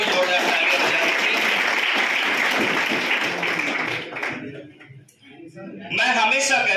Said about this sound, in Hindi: इसके लिए भी जोरदार तालियां बजाएंगे।